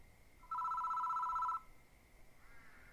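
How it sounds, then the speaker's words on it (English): A telephone rings once in the horror video game Death Mark, a steady electronic bell tone lasting about a second, clear and fairly close over a quiet background. "The phone rings."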